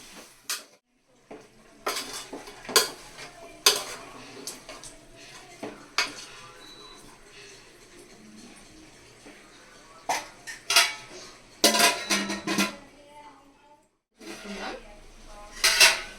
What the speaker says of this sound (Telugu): మంచిగా తిప్పేసుకోండి.